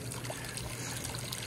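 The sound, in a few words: hot tub decorative waterfall running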